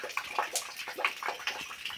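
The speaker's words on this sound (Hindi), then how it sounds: "ये देखिए भोलेनाथ की जटाओं से किस तरह से जो है पानी निकल रहा है" Water pouring from the matted locks of a Shiva statue at the Nagni Mata temple, a steady splashing stream with bubbling gurgles, close and clear with no talk.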